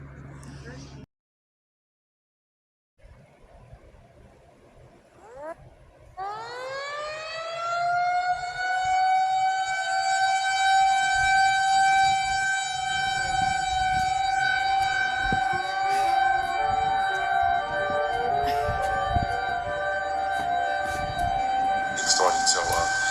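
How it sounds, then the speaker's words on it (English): A civil defense warning siren in an emergency alert scenario rises after a brief silence into a loud, sustained wailing tone that holds steady for the rest of the stretch, with faint background noise beneath it. "It's sirens. It's a siren."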